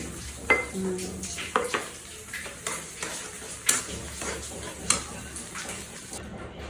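Onions, about a cup, tossed into hot oil in a pan and stirred with a utensil for a beef pickle bhuna, giving a steady sizzle broken by clinks and scrapes against the pan, close by.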